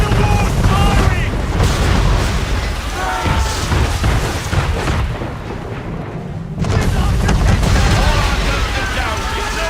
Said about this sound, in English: Man of war's firing!